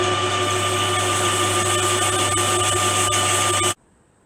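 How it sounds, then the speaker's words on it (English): A metal part for a Jawa motorcycle restoration is polished on a powered tool, giving a loud steady whirring drone with a constant hum that stops abruptly near the end. "So I'll start polishing this up"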